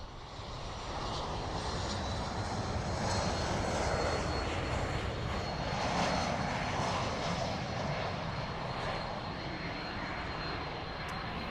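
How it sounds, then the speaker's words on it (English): Jet airliners taking off and landing at LAX fill the scene with a broad, steady engine roar that swells slightly and then eases, heard alone without any talk. "I recorded these jets that were taking off the landing at LAX."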